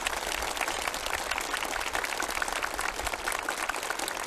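Enthusiastic, sustained applause fills a theatre as a crowd of participants at a ceremony for the Samjiyon Orchestra claps dense and even throughout.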